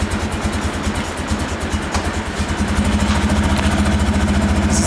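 A 1956 BMW R69 motorcycle idling nearby, a steady even low thumping that holds smooth and loud throughout, with no one talking.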